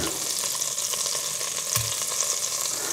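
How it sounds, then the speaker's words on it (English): Pieces of venison fry in olive oil in a pan for a stew, a loud continuous sizzle close up with a brief scrape of the meat being turned. "I've got about half the venison in there. So I'm just going to keep that cooking, turn it over."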